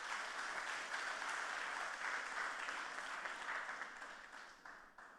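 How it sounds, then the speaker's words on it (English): Steady applause from an audience at a PNM public meeting, a dense wash of many hands clapping at moderate distance that gradually thins out near the end. "I'd like for you to give them a round of applause"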